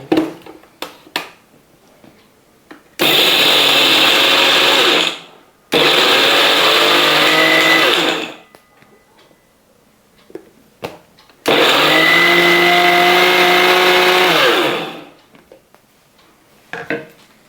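A mixer grinder grinds asafoetida into powder, whirring loudly in three separate runs of a few seconds each, with the motor pitch wavering and quiet gaps between runs.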